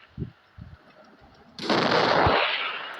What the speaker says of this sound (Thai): คันระดับ3นัดนั้นเข้าเป็นเต็ม ข้าศึกถูกยิง